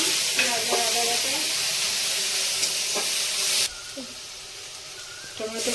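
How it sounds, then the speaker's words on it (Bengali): Onion-ginger paste fries in a pan of oil for a tilapia curry, a steady broadband sizzle with occasional stirring scrapes and clinks throughout, dropping to a quieter hiss partway through. "মশলাটা ভেজে নেব"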